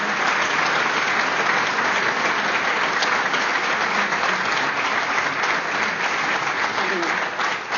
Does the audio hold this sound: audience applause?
yes